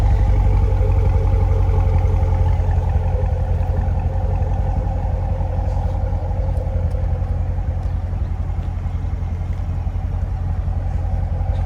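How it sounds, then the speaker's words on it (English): Stock 2016 C7 Corvette engine running steadily, a continuous deep rumbling drone heard loud and close from inside the car, without distinct revs or speech. "now rev it out to 9K."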